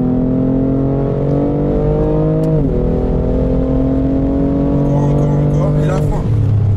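A BMW accelerates hard on a race track, its engine droning loud and close with rising harmonic pitch, a brief dip as a gear changes, then climbing again under in-car talk.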